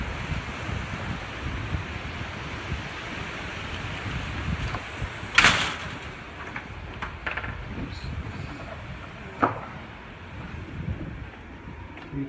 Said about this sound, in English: The wind just started literally as I walked in.